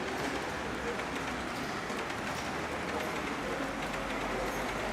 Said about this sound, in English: Here comes the other train.